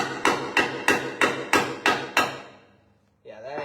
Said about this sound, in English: we're going to take this nail and we're going to try to punch her out one more time